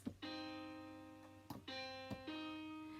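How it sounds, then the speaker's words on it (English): Three sustained keyboard tones sound in turn, each struck note ringing a couple of seconds before the next, quiet and clean with soft knocks between them and no speech, outlining a minor third. "This is the minor third."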